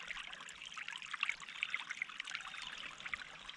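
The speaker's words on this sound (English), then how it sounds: "water always flows down to that point" Water trickles and streams steadily downhill into a sinkhole-like low spot, where it could serve as an alternative to a culvert pipe. The flow is soft, continuous and close by, with a faint babbling texture and no voices.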